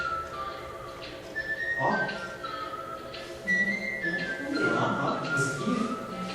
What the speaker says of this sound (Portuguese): vai ter esse assobio